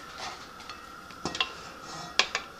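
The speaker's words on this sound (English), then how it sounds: "we're going to push the contents in" Cooked Italian courgette medley with onions is pushed out of an Instant Pot liner, making faint scraping and a few sharp metallic clinks and taps near the end, with no talking.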